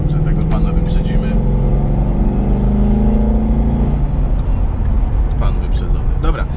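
A car engine climbs in pitch as the driver accelerates to overtake another vehicle on a commuter road, a loud, steady drone that rises and then settles, with a voice talking over it.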